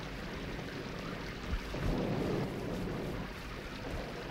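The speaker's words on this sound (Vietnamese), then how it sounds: "Mưa lớn quá." Heavy rain hisses steadily through a scene of a Vietnamese radio drama, with a low roll of thunder swelling midway and fading back into the downpour. The whole scene is fairly quiet.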